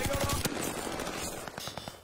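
Automatic weapon fire in the Warzone video game comes in rapid bursts of quiet, repeated shots, with a game background beneath.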